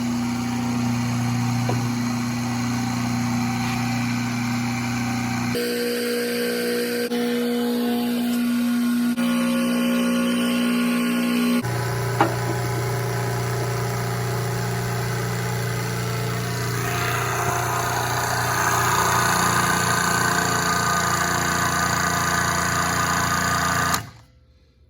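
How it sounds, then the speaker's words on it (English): A homemade 100-ton hydraulic press runs with a steady motor hum and pump drone rated to 10,000 PSI, loud and close, shifting in tone twice as the cylinder pushes, then cutting off abruptly at the end. "then we turn it on. And then that cylinder will come over and push this thing together."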